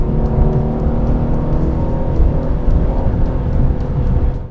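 An Aston Martin DB11 V8 pulling hard in manual paddle-shift mode, its engine roaring steadily and loudly from inside the cabin with a rising, sustained drone and no gear change.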